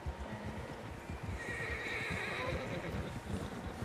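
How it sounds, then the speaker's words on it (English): Several horses whinnying in the video game Red Dead Redemption 2, with hoof clip-clops and a shrill neigh rising over a busy, continuous outdoor bed of trotting and movement. "Horses, quite a few of them."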